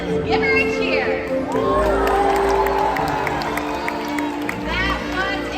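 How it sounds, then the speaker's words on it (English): Crowd at a SeaWorld Orlando Orca Encounter show in 2022 cheering and whooping for an orca jump, with high children's shouts over a broad, steady roar and an announcer's voice woven through. "When we see this jump, let's give her a cheer."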